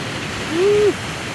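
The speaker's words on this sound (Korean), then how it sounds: "물소리가 아주 힘차게 네, 흘러가고 있어요" Steady rushing water fills the clip, a broad continuous wash of a mountain valley stream with no pauses, moderately loud throughout.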